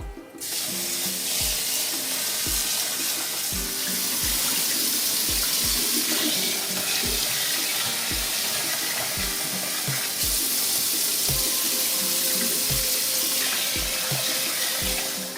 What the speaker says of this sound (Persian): برنجمون هم میشوریم